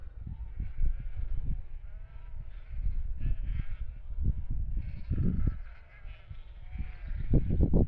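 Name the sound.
sheep bleating while following a farmer's quad bike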